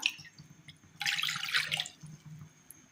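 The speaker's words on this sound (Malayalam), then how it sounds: "അടുപ്പത്തൊരു പാത്രം വെച്ച് കൊടുത്ത് അതിലേക്ക് അല്പം വെള്ളം ഒഴിച്ചു കൊടുക്കാം" Water is poured into a pot on a stove in one brief splashing burst of just under a second, set against a quiet kitchen hum.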